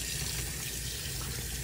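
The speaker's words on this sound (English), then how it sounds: "So make sure you get a little bit of water, rinse them off" Water from a tap runs steadily while metal barber clips are rinsed under it in a sink, a close, even wash of noise with no pauses or speech.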